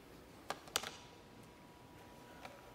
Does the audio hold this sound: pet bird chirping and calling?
no